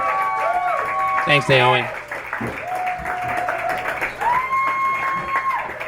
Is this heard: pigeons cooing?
no